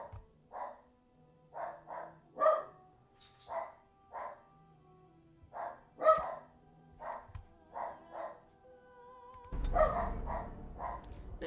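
Dogs bark in the video game Dragon Age: Origins, a run of sharp, evenly spaced barks and yips with gaps between, moderately close, ending in a denser burst of noise.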